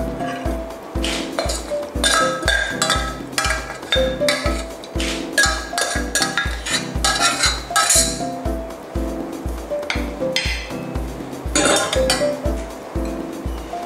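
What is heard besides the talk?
scooping sweet liver dish onto a plate, utensils clinking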